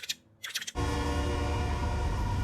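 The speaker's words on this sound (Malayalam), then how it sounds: "ധൂം 2-ൽ മരുഭൂമിയിൽ കൂടെ ഒരു ട്രെയിൻ പോകുന്നത് പോലെ ഒരു ട്രെയിൻ ഇങ്ങനെ പോവാണ്" A train rolls through a desert in a film scene; after a few brief soft sounds, a loud, steady, broad rumble sets in and holds without a break.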